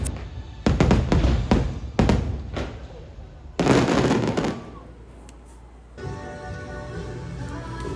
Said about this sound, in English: The fireworks were delayed a little bit because of this weather, but they did go off eventually.